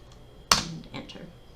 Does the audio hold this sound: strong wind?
no